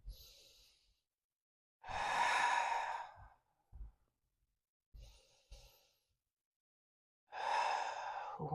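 Deep breathing during a gentle hatha yoga practice: two long audible breaths a few seconds apart, with soft short intakes and small sounds between, close and quiet with silence around them.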